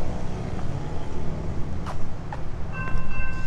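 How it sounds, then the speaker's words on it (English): An intermodal freight train with several locomotives rumbles past close by, a steady low roar of rolling cars with faint metallic squeals and a distant horn tone near the end. "This is an intermodal train, I think."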